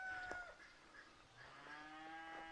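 Cattle lowing on a working farm, a few drawn-out moos rising and falling, fairly close, with faint hens clucking and other barnyard noise in the background; no one speaks.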